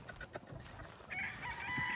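Chickens and roosters on a farm in Bulacan, with quiet clucking and scattered fowl calls at a distance, then a higher sustained crowing-like call rising over the last second.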